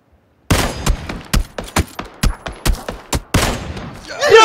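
Gunfire in a battle royale video game: a loud run of about a dozen sharp, separate shots in quick succession, ending in a denser burst.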